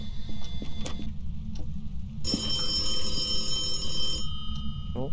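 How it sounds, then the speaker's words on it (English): A phone rings in the horror video game Phasmophobia, a bright electronic trill that starts partway through and holds for about two seconds over a low constant rumble, fairly loud and without talk. "The flipping phone scared me."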